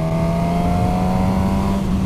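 A Suzuki GSX-S1000 motorcycle engine holding a steady, droning rev with a deep airbox roar, loud and close, continuous throughout with no speech.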